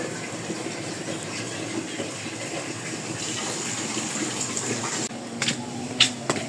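Water runs steadily from a household tap into a container. The gush stays continuous and moderately loud, and a few light knocks and clatters come near the end, with no talking.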